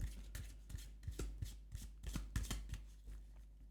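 Tarot cards handled and picked with a mermaid-themed brush, soft rhythmic card shuffling and rubbing in quick close brushing strokes, quiet and intimate with no talking.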